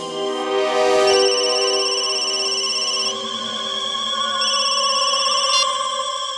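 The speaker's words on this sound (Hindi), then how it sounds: "उसके मोबाइल पर एक कॉल आया था" A mobile phone rings with a steady, bright electronic ringtone for an incoming call inside an office cabin, loud and continuous with repeating melodic tones and no talking over it.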